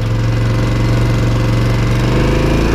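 Polaris Sportsman XP 1000 S ATV engine running at a steady, loud idle close by, a continuous low throbbing rumble with a faint rhythmic knock and no talking.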